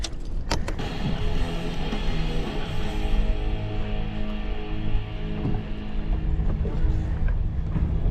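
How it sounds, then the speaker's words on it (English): Steady wind gusting across a lake while bass fishing from a boat, a broad continuous rush with low rumble, fairly loud throughout and without talk. "It's pretty windy here."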